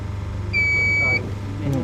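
Beep from an AMF panel on a Honda EU70is generator setup as the stop button is held, one steady high electronic tone lasting about half a second over a low motor hum.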